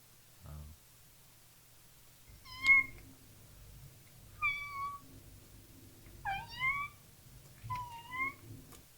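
A cat meows four or five times, clear drawn-out cries spaced a second or two apart over a low steady hum, with a soft thump near the start.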